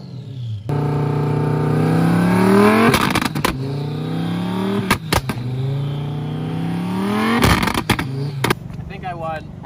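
A loud twin-turbo sports car engine idles and revs in repeated rising pulls, close by, with brief sharp bursts between the revs.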